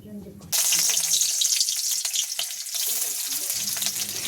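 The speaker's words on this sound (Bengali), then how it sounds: "তারপর তেলটা গরম হয়ে গেলে পেঁয়াজ কুচিগুলো ছেড়ে দিতে হবে" Chopped onions hit hot oil in a wok with a sudden loud hiss that continues as a bright, steady sizzle, easing slightly toward the end.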